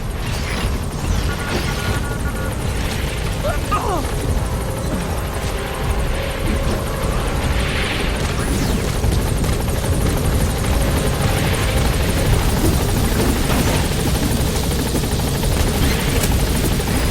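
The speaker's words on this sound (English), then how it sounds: "All right, the chopper's touching down." A helicopter in Metal Gear Solid V: The Phantom Pain on PS5 touches down and lifts off, its rotor roar loud and continuous throughout with a dense, steady thrum.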